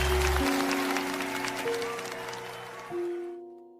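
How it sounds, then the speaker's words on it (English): Applause welcoming the lead coach at a fashion business event, a crisp burst of clapping over sustained music that thins out and fades into silence near the end. "With standing ovation and claps and applause, please welcome our lead coach"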